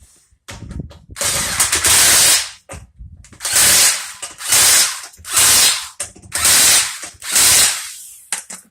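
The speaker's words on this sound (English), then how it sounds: "I like to use my torque wrench, and I like to do 90 pounds to make sure it's safe and it's good." Torque wrench tightening the wheel lug nuts on a 2010 Chevy Suburban during a front brake job, heard as several loud bursts of rapid ratcheting clicks with short pauses between them and no talking.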